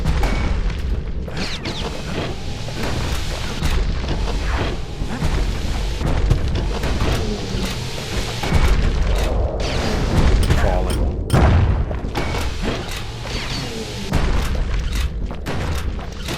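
Scrap salvo explosions from the video game Bastion, a dense run of booming blasts that continues almost without a break, loud and close, with a voice talking over parts of it.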